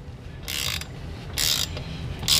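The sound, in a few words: wrench loosening frozen bolt on FZR motorcycle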